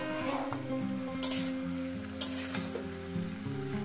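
Mixed vegetables for a Bengali chorchori cook in a covered pan over a medium gas flame, with a steady close sizzle and frying crackle and a few brief sharper pops, and no voices.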